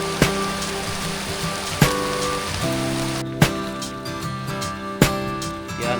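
Heavy rain pours down steadily at an outdoor fishing spot, a dense continuous hiss of drops on surfaces, broken by a few sharp thuds and low tonal notes in the background.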